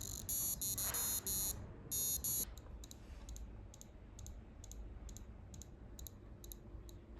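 A small buzzer on a homemade Arduino alarm clock beeps loud, bright tones, first in a quick melodic run of long steady notes, then a regular series of short repeated beeps.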